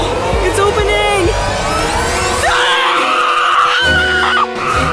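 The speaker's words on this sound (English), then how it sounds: "Do you hear screaming?" Screaming plays from a phone in a car trunk, loud and steady across the clip, with strained, wavering high cries and background noise, mixed with the voices of people talking nearby.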